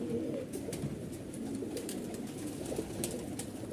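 Low, throaty cooing rolls on steadily from a red-pied male pigeon of a Malwai Punjabi or Madrasi breed, near and fairly even in loudness, with light background clicks and no talking.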